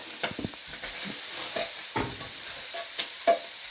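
Marinated minced meat sizzling in a pan for nachos, a steady close hiss broken by scraping stirs and short crackling bursts at irregular moments.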